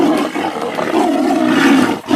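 A tiger roaring in a loud, sustained, rumbling growl that swells and holds for about two seconds, close and forceful with no voices.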